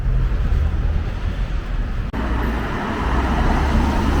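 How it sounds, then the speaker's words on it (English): Road traffic at a small-town bus terminus in Penistone, a steady close rumble and hiss of vehicles with a brief dropout midway, then continuing noise of engines and tyres. "So that's the bus terminus where you can catch buses to Barnsley, Holmfirth, etc."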